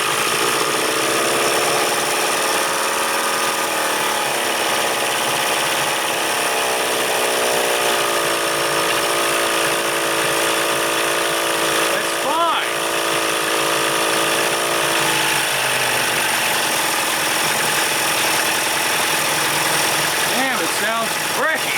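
Evinrude 40 outboard motor running with a steady buzzing, slightly uneven drone that shifts in pitch partway through, loud and close, with brief voices and a couple of short squeaks over it.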